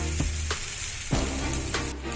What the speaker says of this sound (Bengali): এইভাবে আমি লো ফ্লেমে আরও 2 থেকে 3 মিনিট ভেজে নেব।